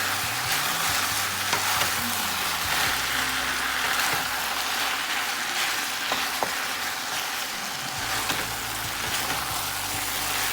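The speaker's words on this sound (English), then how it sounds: "Let the vegetables cook down" Onion, tomato and bell pepper fry together with seasoned beef in a pan, giving a steady close-up sizzle with occasional stirring scrapes and no talk.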